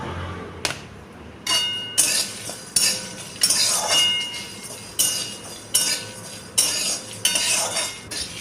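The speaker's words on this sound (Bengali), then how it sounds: "দেখো আমি নেড়ে যাচ্ছি" A metal spatula scrapes and clinks against a pan while whole spices such as coriander seeds are dry-roasted for raw mango pickle, giving a run of sharp rhythmic scrapes and clanks about once a second, loud and close, with no talk.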